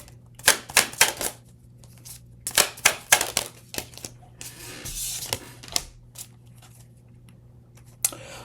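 Tarot cards being shuffled, with several clusters of sharp crisp riffling snaps through the first half, a longer softer rustle around the middle, and one last snap near the end, close and quiet, with no talking.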